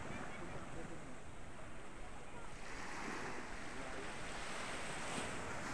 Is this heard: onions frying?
no